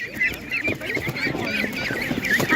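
Ducks quacking at a busy animal market, repeated honking calls close by over crowd and market bustle.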